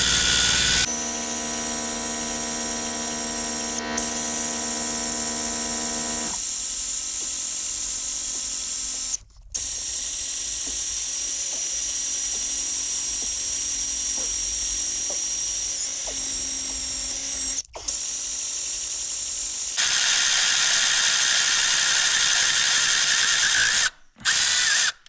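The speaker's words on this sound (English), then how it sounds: "and we just drill away." A loud, high-pitched power drill whirs steadily at close range while drilling on a 5.4 Triton engine, pausing briefly a few times before spinning up again.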